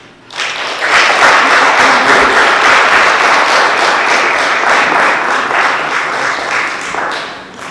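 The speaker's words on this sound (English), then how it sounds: "If I could just ask you to just hold the clapping." Audience at a school committee meeting breaks into loud, sustained applause and clapping that starts suddenly, holds steady for several seconds, then begins to fade.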